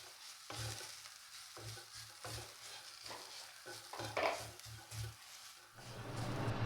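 A spoon stirs spice powders into Kerala-style soya curry in a pan, making about ten rhythmic scraping strokes over a faint sizzle, quiet and close.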